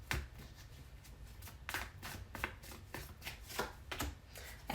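Tarot cards are shuffled by hand in a series of quick riffling bursts, close and fairly quiet, with short pauses between the bursts.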